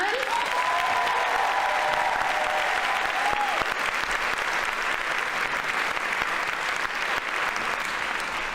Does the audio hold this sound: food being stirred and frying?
no